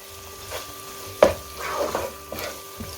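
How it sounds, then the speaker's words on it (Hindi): A spoon stirs ground garam masala through an onion and tomato salan gravy in a pan, with soft scraping and a gentle sizzle, one sharp clink of utensil against the pan partway through, close and fairly quiet. "अब हम इसमें 1/4 टीस्पून गरम मसाला डाल देंगे और इसको अच्छे से मिक्स कर लेंगे"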